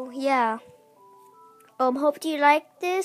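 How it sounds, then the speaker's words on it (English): A short run of soft phone keypad tones plays, each a brief steady beep, between stretches of someone talking. "Oh, that's a phone."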